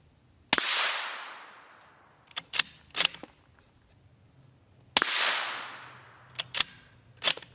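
Two sharp, loud rifle shots of M855 rounds strike a Hesco 4800 armor plate, each a close crack with a decaying roar, followed by smaller clicks and clacks of handling the rifle.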